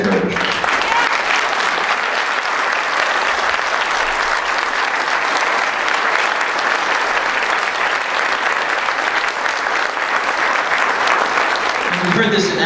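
Loud, continuous applause from a meet-and-greet audience recognizing local candidates running for office, a thick, even roar of many hands clapping throughout with no breaks.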